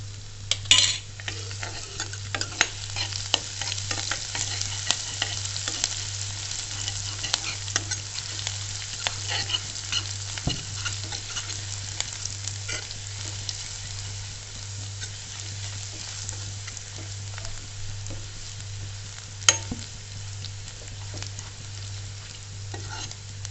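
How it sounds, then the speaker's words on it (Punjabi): Garlic and ginger paste frying in hot oil for bread pakoda, halwai style, with steady close sizzling and frequent scraping and clinking of a spoon stirring in the pan. "ਇਹਨਾਂ ਨੂੰ ਭੁੰਨ ਲਾਂਗੇ ਲਸਣ ਤੇ ਅਦਰਕ ਦਾ ਪੇਸਟ ਪਾਵਾਂਗੇ"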